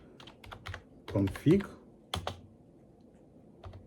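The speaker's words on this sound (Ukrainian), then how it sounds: "І набираємо команду ipconfig" A computer keyboard clicks as a command is typed into a Windows 11 command prompt, with a few quick bursts of near keystrokes spread over several seconds, with a person speaking between them.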